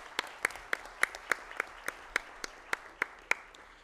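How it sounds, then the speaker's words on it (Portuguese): Rhythmic clapping for honorees at a formal solemn session: about a dozen crisp, evenly spaced claps in a steady beat, fairly close and moderately loud. "Uma salva de palmas para os homenageados."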